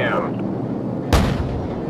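Heavy cannon fire from an AC-130 gunship strikes hostiles in Call of Duty: Modern Warfare, a single loud booming impact landing over steady background rumble while radio voices talk in the scene.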